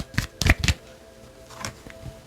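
Tarot cards are shuffled in a few quick riffling bursts, followed by softer flicks as a card slips out of the deck, close and otherwise quiet.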